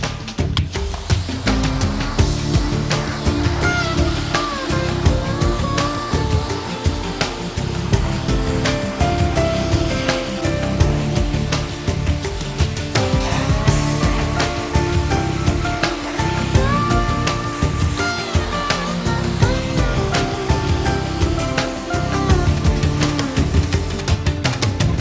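Pressure washer jet rinsing cleaning product off a car during contactless car wash training, a loud steady hiss of spraying water running unbroken and close for the whole stretch.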